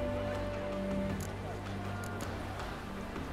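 A horse in the video game The Witcher 3: Wild Hunt neighs clearly over steady game ambience, with some hoof clatter and a brief background voice.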